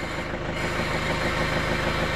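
A John Deere 110 TLB backhoe with about 4,100 hours idles during a hydraulic oil change. Its engine holds a steady, close, low throbbing drone with an even rhythm and no talk.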